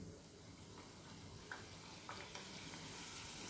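Wheat flour diamond-cut chips dropping into well-heated oil, giving a steady, fairly faint hiss of frying with a few soft splashes and crackles as pieces go in.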